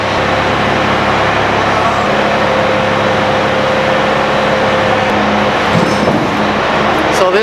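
A truck engine runs steadily while heavy machines are being moved, a constant low droning hum under outdoor noise, with faint clatter and shifting near the end.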